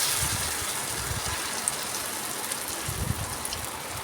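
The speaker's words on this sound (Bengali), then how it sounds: "এরপর আমি এগুলোকে ভেজে নেব" Besan chapati roti frying in oil in a pan, a steady broadband hiss and crackle running evenly throughout with a few soft low thumps, close and fairly quiet, no talking.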